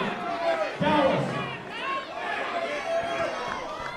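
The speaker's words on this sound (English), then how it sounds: "The crowd's calling for it" Wrestling crowd at a Halloween-themed show, Billington Bulldogs versus Bollywood Boys, shouting and clamoring together in a steady roar with louder bursts, commentator voices talking over the noise.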